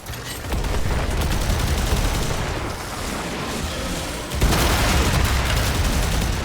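Continuous heavy gunfire while fighting the Profit Taker boss in Warframe, dense automatic shooting with booming bursts, loud and unbroken, briefly dipping before surging again.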